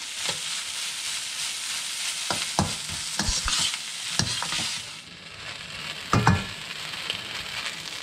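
Pork fried rice being stirred and broken apart in a hot pan, a steady loud sizzle of frying under repeated sharp scrapes and knocks of the utensil against the pan, with no talking.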